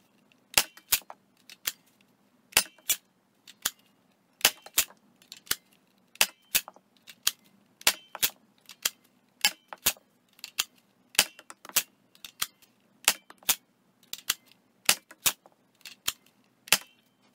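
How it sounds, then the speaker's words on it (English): A Nerf Rival Fate blaster fires ten foam balls in quick bursts, sharp snapping shots close up, often in pairs or clusters, with short quiet gaps between. "Okay, let's fire 10 of these little blue guys."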